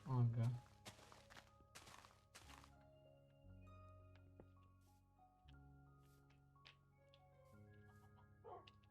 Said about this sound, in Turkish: köpek gelmiş